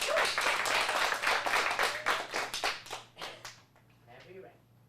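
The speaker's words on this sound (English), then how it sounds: "Let's get a big round of applause." A group of children in an acting class clap in a burst of applause, dense and loud at first, then thinning into scattered claps before fading out.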